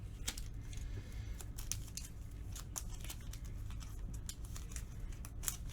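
Playing cards for a Marvel Champions game are shuffled at close range, giving a quiet run of crisp, rapid riffling clicks and papery flutters with no talk over them.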